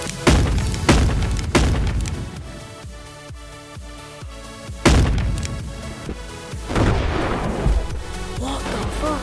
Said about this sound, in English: They all exploded.